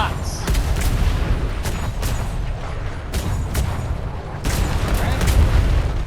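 Ship cannons fire in a naval video game, a series of heavy booms spaced a second or so apart over a constant rumbling background, while a man calls out orders.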